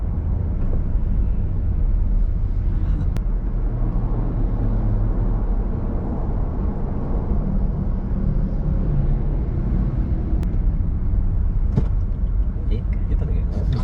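Congested Malaysian road in a traffic jam: a steady, loud rumble of idling and crawling cars fills the whole stretch, with a few brief sharp ticks and clunks rising above it.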